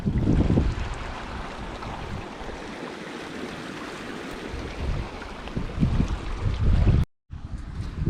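Water pours out of a plant pipe at a large shrimp farm in Rameswaram as a continuous broad rushing gush, loud and close with wind buffeting, cutting out briefly near the end before resuming.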